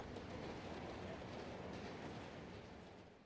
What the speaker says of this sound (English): that's when the train just gets pulled slowly into the station